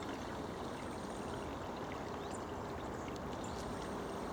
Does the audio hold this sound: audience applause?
no